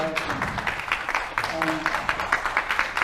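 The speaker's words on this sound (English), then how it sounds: "we don't permit applause in the gallery" Applause from the public gallery of the Arizona State Senate chamber in 2008, a steady patter of many hands clapping at moderate distance, with a voice speaking faintly over it.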